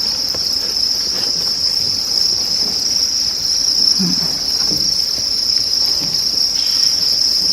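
Crickets on a Thai cricket farm, egg-laying trays set out, chirp in a steady, dense, high-pitched trill that runs unbroken throughout, close and loud.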